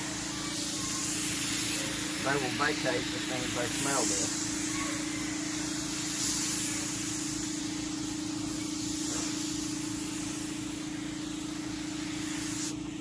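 An HVLP paint gun sprays Helmsman spar urethane with a steady, continuous hiss over a low mechanical hum, while someone talks briefly near the start.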